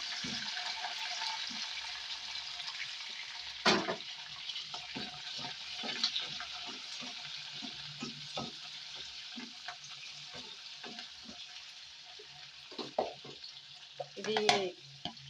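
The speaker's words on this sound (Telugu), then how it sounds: "ఇప్పుడు ఫస్ట్ ఇందులో కట్ చేసిన పచ్చిమిర్చి వేసుకుంటున్నాను ఉల్లిపాయ ముక్కలు కూడా" Chopped green chillies and onion pieces hit hot oil already holding fried tempering spices for a mixed brinjal curry, raising a soft, continuous sizzle broken by scattered clinks and scrapes of stirring, with a louder clatter near the end.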